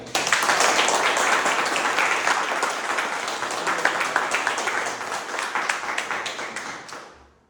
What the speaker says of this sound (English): Let's clap to bring energy in this room.